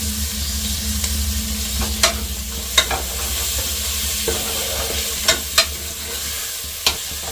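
Tomatoes and green chillies fry and get stirred in a pan for ghee rice dalcha, a steady sizzle throughout with several sharp clinks of a spoon scraping the pan at irregular intervals.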